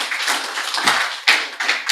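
A church congregation applauding, dense close clapping in overlapping bursts that swell and dip, with a few sharp peaks, no voices over it.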